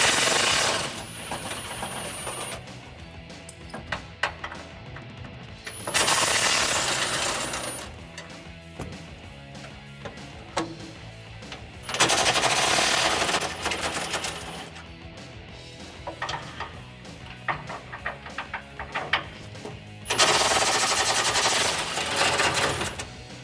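Power tool with a swivel socket zips off 15 mm rear bumper bolts under a 2009-2018 Ram truck, three loud sustained whirring bursts of several seconds each, separated by quieter rattling, clinking and handling noise.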